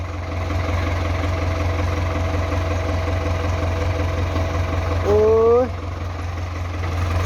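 A Ford tractor engine idles with a steady low rumble throughout, while a brief rising whine or horn-like tone cuts in near the end.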